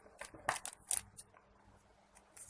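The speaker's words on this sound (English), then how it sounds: "I'll just be using scissors." Scissors cut open toy packaging with a few quick, faint snips and crinkles of plastic, then fall quiet, with soft handling noise near the end.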